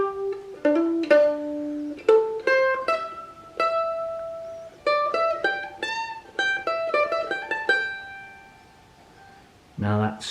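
A mandolin picks the next section of a song, a run of bright plucked notes with hammer-ons and sustained tones, played close and alone before a brief voice enters at the very end.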